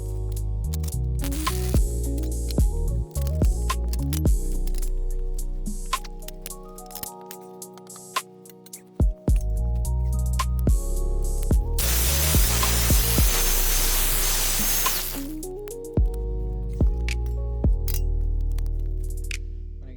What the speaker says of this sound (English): So I'll just do a dirty weld just to hold it in place